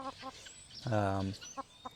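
Chickens cluck at a poultry auction, with short clipped clucks on either side of one longer, drawn-out squawk, close and fairly clear.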